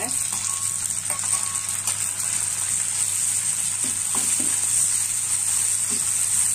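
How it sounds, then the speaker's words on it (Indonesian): Tomatoes sautéing in a frying pan, a steady close sizzle with a few light clicks of stirring, running continuously without talk. "Kemudian kita tumis tomat dulu ya"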